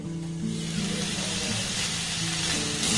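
Potatoes cooked with spices sizzle and hiss steadily in a pan on the stove, a soft continuous frying sound at moderate volume with no voices.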